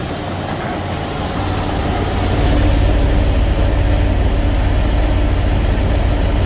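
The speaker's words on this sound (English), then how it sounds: "Motor's got a shake to it." A Jeep Grand Cherokee 4.0 engine runs rough with a noticeable shake, a loud, steady low rumble that swells slightly after the first couple of seconds and holds without any talking.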